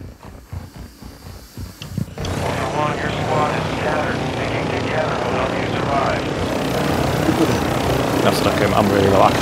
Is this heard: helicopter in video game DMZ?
yes